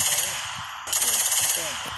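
A homemade .380-caliber automatic machine gun fires rapid bursts, the crackling shots moderately loud and partly overlapped by a voice talking.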